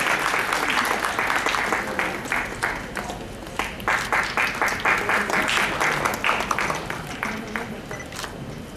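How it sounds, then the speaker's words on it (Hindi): Loud crowd applause at a children's poetry gathering, dense overlapping claps that swell and continue steadily, fading slightly toward the end. "एक बार जोरदार तालियों के साथ आप स्वागत करें।"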